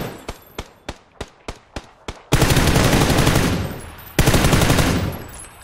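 Gunfire in the battle royale game PUBG on the Erangel map: seven evenly spaced single shots, then two long, loud bursts of continuous automatic fire.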